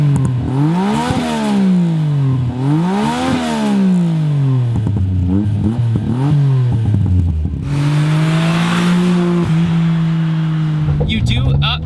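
Small-engined Suzuki Cappuccino roadster revving hard while driving, the engine note climbing and dropping repeatedly through gear changes, then holding a steady drone, loud and close throughout.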